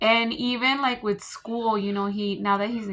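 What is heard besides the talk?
No everyday noise stands out behind the speech.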